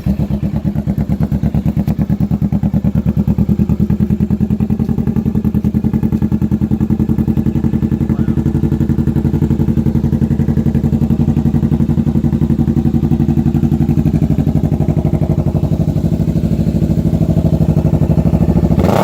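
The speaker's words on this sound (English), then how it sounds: "So let's fire this thing up. Cold start is gonna be crazy." A Kawasaki Vulcan S motorcycle fitted with a Two Brothers aftermarket exhaust idles loud and close after a cold start, with a rapid, even throbbing pulse and a deep rumble that holds steady throughout.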